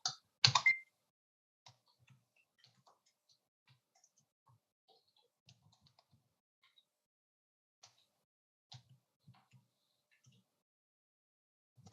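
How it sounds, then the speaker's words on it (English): Keys clack on a computer keyboard as sentences are typed, sparse soft clicks in uneven bursts over near silence, with a louder clatter at the start and a few quick runs later. "I'm typing some sentences with different punctuation."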